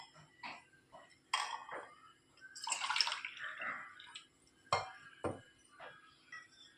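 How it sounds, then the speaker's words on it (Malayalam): Water is poured from a glass into a pot of jackfruit erissery cooking in Kerala style, giving faint splashing and trickling with a few light clinks against the vessel, quiet and close. "ഇനി വേകാൻ ആവശ്യമായ വെള്ളവും കൂടെ ചേർത്ത് കൊടുക്കാം"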